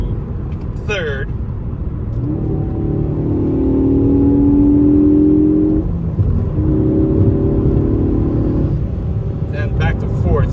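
Ford Focus ST fitted with a Borla S-Type exhaust revving and accelerating through the gears, a rising droning engine tone with a gearshift break midway, heard from inside the cabin with someone talking.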